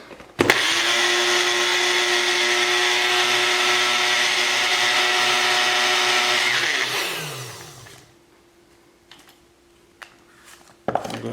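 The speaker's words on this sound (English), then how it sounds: "If you're making a lot, you can use a big blender, but I think this juice mixer will do just fine." A small juice mixer blends jute leaves with water into an organic garden spray. It gives a loud, steady whirring drone for about six seconds, then winds down and stops, leaving a few faint clicks.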